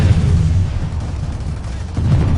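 Dense, continuous explosions and artillery-like booms rumble through a PlanetSide 2 battle, loud and sustained with no clear gaps, with heavy low-end thuds throughout.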